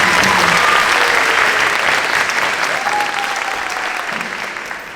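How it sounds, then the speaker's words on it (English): Audience applause at a school campus ribbon-cutting, a loud, dense round of clapping from a crowd that fades slowly toward the end, with faint voices mixed in. "We give a round of applause for that."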